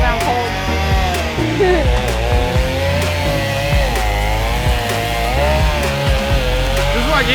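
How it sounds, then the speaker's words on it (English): A chainsaw roars loudly and close while cutting a tree during landscaping cleanup, its engine pitch rising and dipping steadily as it bites into wood. "The most powerful chainsaw available on the market."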